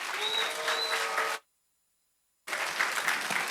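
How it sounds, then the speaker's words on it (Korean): Loud audience applause at a church conference as a speaker is welcomed, dense clapping cutting off abruptly into silence for about a second, then resuming just as strongly. "모두 이제 나오실 때 다들 환영의 박수로 맞이해 주시면 감사하겠습니다"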